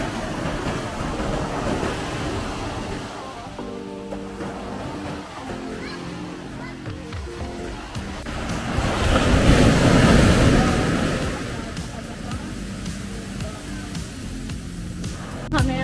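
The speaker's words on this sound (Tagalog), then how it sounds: "Maalon ngayon. Super maalon ngayon." Rough surf at high tide on a white sand beach in Cagwait, Surigao del Sur, loud waves washing up onto the shore with a swell building near the middle, wind buffeting the microphone and a voice speaking briefly.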